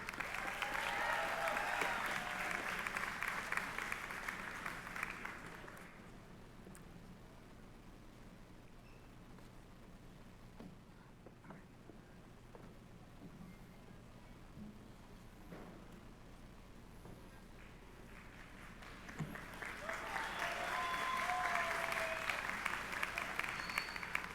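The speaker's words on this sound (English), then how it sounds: "Let's give another round of applause, please." Applause from the audience at East High School's 2022 commencement ceremony: loud clapping at the start fades to a low murmur in the middle, then swells again toward the end.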